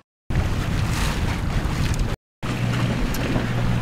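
Steady drone of a sailboat motoring under engine power up the St Johns River toward Jacksonville, Florida on a windy, nasty day, with wind buffeting the microphone and water rushing, briefly cut out twice.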